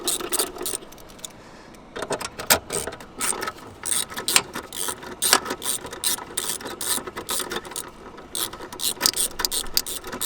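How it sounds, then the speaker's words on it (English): A hand ratchet with a 10mm socket backs out the long battery hold-down bolts on a BMW 3 or 4 Series, rapid clicking pawl bursts close up, repeated in quick runs with short pauses. "Next step is to remove 2 long bolts holding the battery in place. 10mm socket."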